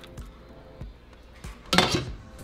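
Toasted spices being tipped from a pan into a blender cup while making chicken mole, heard as a few soft knocks followed by a louder clattering rattle of metal and glass near the end.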